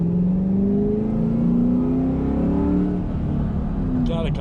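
A loud car accelerates along a road past a high school, its engine note rising and holding in a strong, close revving drone heard from inside the vehicle.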